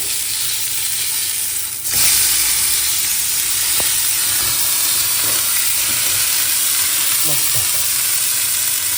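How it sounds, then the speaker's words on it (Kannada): Mutton keema vadas frying in hot oil, several at once, produce a loud, steady, close sizzle and hiss that swells just after the start and holds, with a few faint clinks. "ಒಂದು ಏಳೆಂಟು ಒಡೆ ಒಟ್ಟಿಗೆ ಬೇಯಿಸಿ ಇದು ಮಟನ್ ಆಗಿರೋದ್ರಿಂದ ನೋಡ್ಕೊಂಡು ಸರಿಯಾಗಿ ಬೇಯಿಸಿ"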